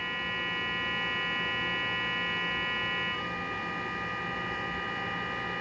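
A Texas Ranger TRE-797 AM/SSB 40-channel CB radio pushed into distortion gives a steady buzzing hum thick with harmonics. Its upper tones shift partway through, and the sound runs continuously with no talking.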